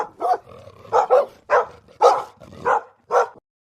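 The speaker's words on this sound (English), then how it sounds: "Dog." A dog barks about seven times in a quick, uneven series of short, sharp, close barks with brief gaps between them.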